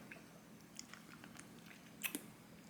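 Soft, mushy food with a slushie-like, non-crunchy texture being chewed close to the microphone: quiet, wet squishing and smacking with a couple of slightly louder bites near the end, and no talking.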